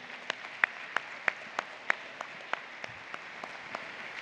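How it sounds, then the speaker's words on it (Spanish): A congregation in church gives a round of applause, heard as slow, evenly spaced single claps against a faint steady background hum. "Un aplauso grande"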